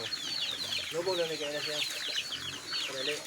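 Several chickens cluck and chatter close by, overlapping calls with a rooster-like squawk, over a busy background with some talk.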